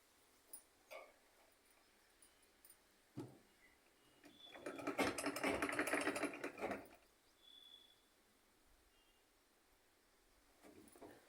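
A sewing machine stitches the side cuts of a dress in one fairly quiet run of about three seconds, with scattered mechanical clicks before and after in an otherwise hushed room.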